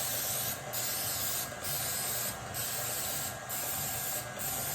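Several short hissing bursts of aerosol cooking spray into a muffin pan, five quick spritzes in an even rhythm, close and fairly soft.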